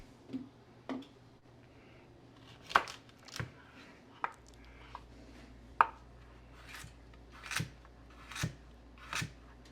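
Crisp, sharp cuts from a new Vero 6-inch chef knife with a marble carbon fiber handle slicing through food while cooking cream of chicken dumpling soup, about a dozen irregular close slicing strokes with quiet gaps between.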